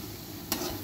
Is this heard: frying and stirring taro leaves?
yes